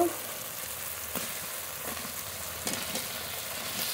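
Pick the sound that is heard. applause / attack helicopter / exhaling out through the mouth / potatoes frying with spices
potatoes frying with spices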